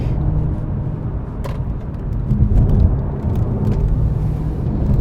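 A BMW F90 M5 with JRZ coilover suspension drives along country lanes, heard from inside as a loud steady low engine and road rumble with faint rattles.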